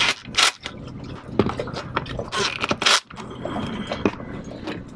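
Socket wrench tightening bolts on a 3.5hp Tohatsu outboard engine, with irregular metallic scrapes, ratcheting clicks and knocks close by, no talk.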